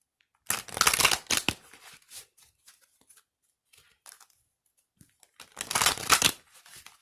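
Two bursts of crisp riffling, like a deck of cards being shuffled, separated by a few seconds of soft handling and small taps.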